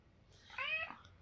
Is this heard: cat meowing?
yes